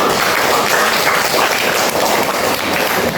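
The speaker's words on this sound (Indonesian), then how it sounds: "Tepuk tangan untuk kita semua" A class of students applauding together in a school lesson, dense continuous clapping filling the room loudly and evenly with no break.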